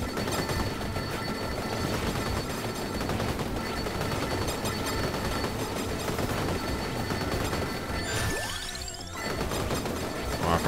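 Continuous chaotic combat noise from the game Vampire Survivors, with repeated blasts, crashes and gunfire-like bursts, dense and loud throughout, with a brief rising whoosh near the end.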